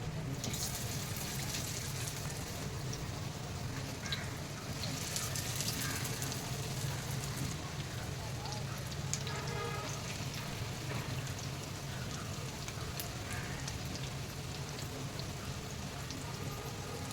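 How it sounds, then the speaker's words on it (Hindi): Bhangda (mackerel) fish, coated in spice masala, frying in a pan over low to medium heat, giving a steady, dense sizzle that runs throughout at an even level with no talk. "लो टू मीडियम पर हम इसको फ्राई करेंगे"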